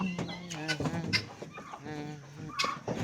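Chickens on a farm cluck loudly and repeatedly close by in uneven bursts, with a few sharper squawks.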